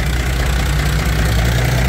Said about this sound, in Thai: เครื่องยนต์อีซูซูครับผมเป็นเครื่องยนต์6สูบครับน่าจะประมาณ180แรงม้าครับผม